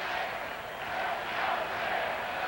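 A baseball crowd at a 1991 Braves versus Pirates game chants in unison, a broad, distant roar of voices swelling steadily without commentary over it.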